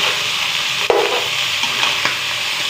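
Sliced sayote being stirred in a frying pan for ginisang sayote, a steady loud sizzle with a sharp spatula scrape near the start and lighter stirring knocks after.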